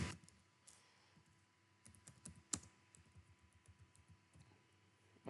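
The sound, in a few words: typing text on a computer keyboard in AutoCAD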